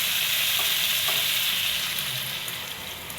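Bottle gourd fries in a pan with a continuous close sizzle while a spoon stirs it now and then, with occasional scraping clicks and no talking.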